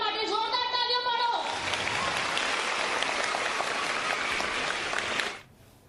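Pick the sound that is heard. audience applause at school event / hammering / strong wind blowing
audience applause at school event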